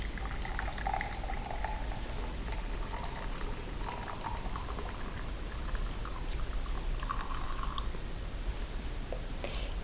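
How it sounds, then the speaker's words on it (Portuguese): Hot water pours and bubbles into a container in a chemistry demonstration, a steady close fizzing and gurgling that runs the whole time with small splashes, with no talking. "No outro recipiente foi adicionado água quente."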